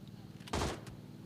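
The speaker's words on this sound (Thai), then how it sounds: "พวกเขาก็ยิงกันอย่างสะใจเลย" A single short burst of gunfire in the video game PUBG, loud and sharp against a quiet background, with a fainter shot following.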